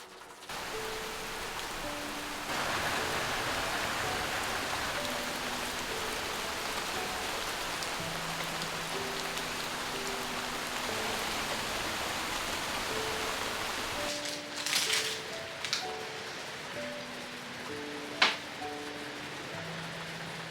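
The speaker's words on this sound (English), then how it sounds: "Rained all night. Oh wow, it's absolutely pouring" Heavy rain pouring overnight in New Zealand while hiking, a steady close hiss of drops on a surface throughout, with faint tonal sounds and a few sharp taps near the end.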